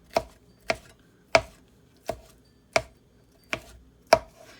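A knife chops ingredients on a cutting board, making them finer for layering in a cherry yogurt parfait, with seven crisp, evenly spaced close chops heard alone in a quiet room.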